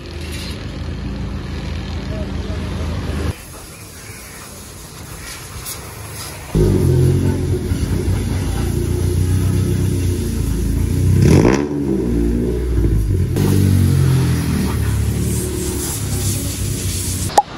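A modified Honda Civic engine runs with a steady, loud mechanical drone from a fault needing repair, briefly quieting before returning, with some faint background noise throughout.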